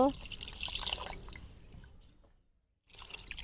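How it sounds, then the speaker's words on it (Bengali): A soft trickle of water pours and splashes into a pot of mixed khichuri ingredients at close range, then stops, with a short silence before faint sounds resume. "পানি দিয়ে দেব।"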